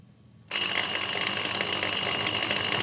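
A quiz contestant's buzzer at a school science and maths quiz rings after a brief quiet stretch, starting abruptly and holding as one loud, bright, continuous ring until the end.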